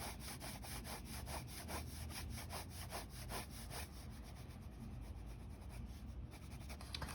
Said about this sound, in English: So you're just drawing these lines to get the perspective right.